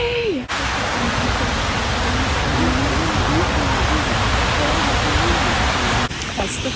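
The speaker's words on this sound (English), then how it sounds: "This is the most amazing waterfall I've ever seen" Waterfall at Silver Falls in Oregon on a misty, rainy day, roaring as a loud, steady wash of falling water close by and continuing without a break, with a voice briefly heard over it.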